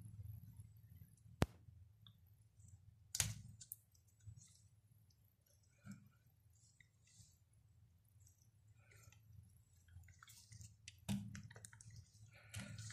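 A Nikon D7000 camera shutter mechanism being test-fired after a blade replacement: a few sharp, isolated clicks spaced seconds apart in a quiet room with faint handling noise.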